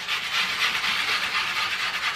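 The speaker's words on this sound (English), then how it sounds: "how to sand, take your sandpaper, just like that" Sandpaper rubs steadily against a turned eucalyptus wooden bowl in quick back-and-forth strokes, a continuous close rasping hiss with no voices.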